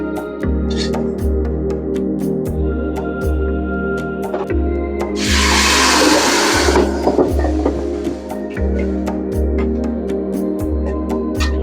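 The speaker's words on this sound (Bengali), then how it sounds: "পেঁয়াজ কুচি, এগুলো ভেজে বাগার দিব।" Chopped onion and dried chili frying for a baghar tempering in a beef nehari kitchen: a rhythmic pulsing machine hum runs throughout, with a loud, bright sizzling burst rising in the middle for a couple of seconds.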